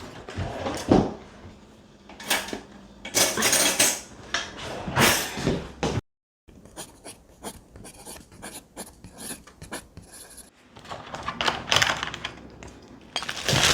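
Spices are mixed into a schnitzel breadcrumb coating in a bowl, with busy scraping, rustling and light clinking that stops for a moment before the stirring resumes, close and fairly loud.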